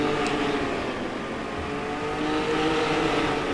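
Super Rods race cars lapping an oval track at Ipswich, led by a green and black Ford Sierra, with a steady mixed engine roar from several cars at mid distance and no clear single pass.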